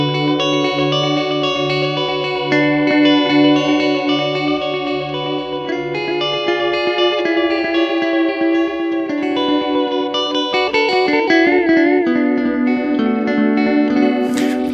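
Electric guitar through a delay pedal with modulation turned fully up, chorus-like wobbling repeats trailing each note, loud and close, a continuous melodic phrase with warbling pitch sweeps toward the end.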